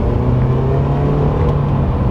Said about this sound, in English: high pitch and whiny exhaust.